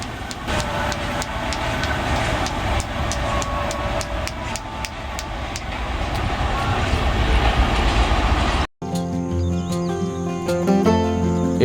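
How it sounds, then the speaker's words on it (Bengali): A train rolls through a village amid rice fields at harvest season, with a loud, close, continuous rumble and rhythmic clickety-clack. It cuts off abruptly near the end, giving way to a different, quieter sound. "দেখুন যখন ট্রেন গ্রামের মাঝখান দিয়ে যায় তখন কি পরিমাণ আওয়াজ হয়"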